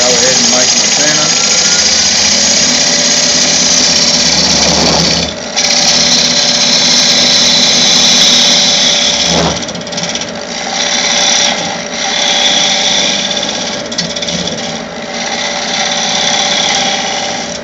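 Wood lathe roughing out a tenon, a steady loud machine drone with broadband cutting noise and brief dips where the tool lifts off the spinning blank.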